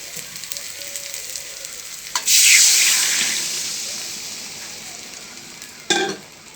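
Water is tipped into a pan of frying masala for a mackerel fish curry, setting off a sudden loud hiss and sizzle that slowly dies down, followed by a short clatter near the end.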